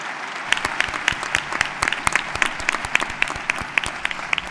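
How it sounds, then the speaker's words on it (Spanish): Audience applause for graduates at a university graduation ceremony in Córdoba, a dense, steady patter of many hands with some sharper nearby claps standing out, sustained and fairly close, with no one speaking. "un gran aplauso para todos los graduados."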